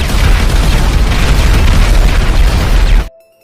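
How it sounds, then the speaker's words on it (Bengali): Several sticky bombs detonating at once in a video game, a loud sustained barrage of booming blasts for about three seconds that cuts off abruptly into near silence. "আমি অনেকগুলো স্টিকি বম লাগিয়ে দিয়েছি, এবার ব্লাস্ট করে দেই।"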